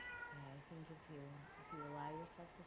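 A cat meows repeatedly in a drawn-out, wavering series of cries, close and fairly loud, with short pauses between calls over a faint background hiss.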